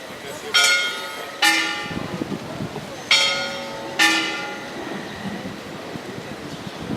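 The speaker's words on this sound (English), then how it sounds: "The bell sounds a bit cracked on that church." A church bell in front of Christopher Columbus's house, with a slightly cracked tone, strikes four times in two pairs, each stroke ringing out with a long fading hum, fairly near over a quiet outdoor background.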